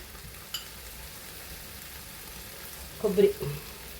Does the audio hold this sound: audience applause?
no